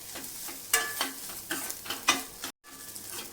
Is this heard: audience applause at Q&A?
no